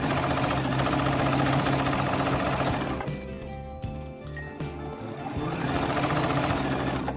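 A sewing machine stitching a pillow runs in a fast, steady mechanical whir, then stops abruptly and restarts a moment later, close and fairly loud.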